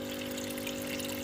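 An 18-watt pump keeps water circulating in a 70-liter reservoir on a terrace farm, giving a constant close hum over a soft continuous wash of moving water.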